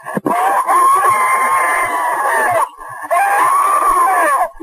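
A woman shrieks for help over a recorded phone call, with long, loud, wavering screams filling most of the clip, broken by a brief pause and short gasping breaths in between.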